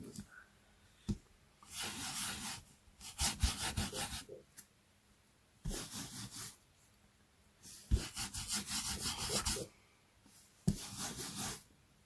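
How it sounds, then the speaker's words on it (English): A hand rubs a paper card dry in several bursts of close, scratchy friction, separated by short pauses and a few light taps. "And then rub it dry over here."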